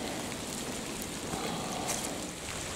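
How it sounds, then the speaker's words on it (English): An outdoor rain shower under thinned trees, steady broadband hiss of drops landing on surfaces, continuous and fairly close, with no voices. "this is quite a shower"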